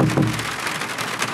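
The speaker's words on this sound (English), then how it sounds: "I feel like you can hear the rain a little bit stronger because this is not actually glass." Rain drums on the soft plastic roof panel of a Hummer EV, a steady, close hiss of drops from overhead with no voices.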